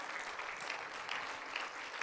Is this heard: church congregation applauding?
yes